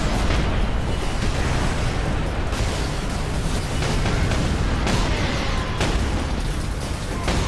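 Dense, continuous explosions and booming blasts in the video game Warhammer 40,000: Space Marine, loud and chaotic, with repeated bursts layered over a rumbling background.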